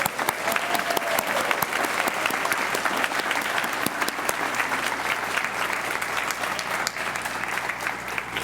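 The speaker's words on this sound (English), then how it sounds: "Let's have one big round of applause for all of them." Audience applause at a One Book Two Book literary event, dense sustained clapping from a crowd that fills the whole stretch evenly, with no talk over it.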